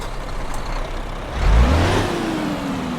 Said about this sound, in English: Here the engine.